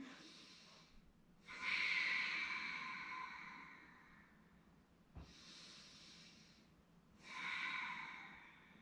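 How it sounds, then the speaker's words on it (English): Deep, slow yoga breaths are taken close to the microphone: long airy inhales and exhales in a calm, even rhythm, with a brief snort-like catch partway through. "Take 2 more full breaths right here."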